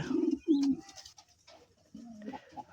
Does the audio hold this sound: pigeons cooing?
yes